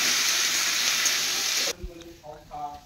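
Food frying in a pan in a home kitchen, a loud, steady sizzle that cuts off abruptly partway through, followed by a few faint knocks and some quieter sounds.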